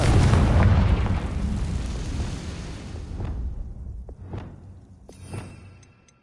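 A Confringo spell blast from Hogwarts Legacy on PS5 bursts loudly at the start and rumbles down over several seconds, followed by a few fainter crackling impacts and a small late pop.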